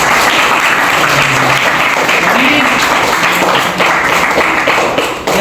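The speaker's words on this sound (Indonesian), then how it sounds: "Tepuk tangan buat Mas Lutfi." Sustained applause from junior high school students in a school hall, dense loud clapping that continues throughout with crowd noise mixed in.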